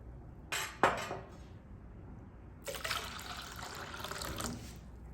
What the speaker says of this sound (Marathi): यात आपण अजून एक वाटी पाणी घालूया